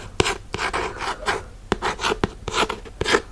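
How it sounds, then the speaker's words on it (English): Fingers tap and trace over anime collectibles up close, sharp clicks interleaved with scratchy rubbing strokes in an irregular rhythm, with no talking. "they made some tingle-worthy tapping sounds and some tracing sounds"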